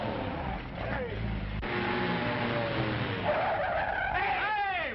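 Car skidding with tires squealing, a sliding screech with rising and falling pitch over engine noise, from an old film soundtrack.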